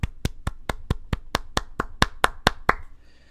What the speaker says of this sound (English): Everyone, round of applause for Jason Herzog.